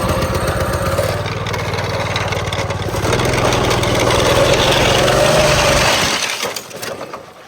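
A small homemade drift go-kart engine revs loudly and steadily with a chain-driven rumble, rising in pitch partway through, then cuts out abruptly near the end, leaving a brief quieter tail.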